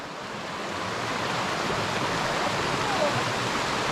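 A river rushing through the Gorges du Bruyant in the Vercors, heard as a steady, loud broadband roar of flowing water and small cascades that stays constant throughout, with no voices over it.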